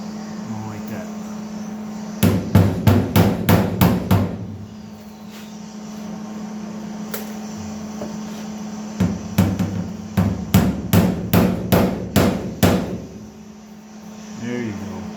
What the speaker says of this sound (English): So now I'm going to take the hammer.